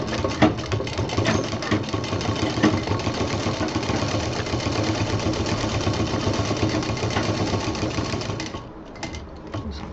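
A sewing machine stitches a homemade baby diaper bag, running in a steady, close, rattling whir for most of the stretch before stopping near the end.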